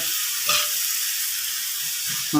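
Bean sprouts and tofu stir-frying in a pan give a steady hiss and sizzle, with a few louder crackling bursts and scraping stirs, close and continuous with no talking.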